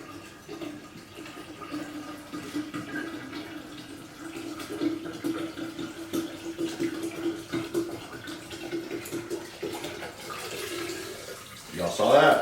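Cold water pours into a home kombucha brewing kit at a low, steady trickle with a faint splashing wash that swells into a louder gush at the very end, while a person talks over it.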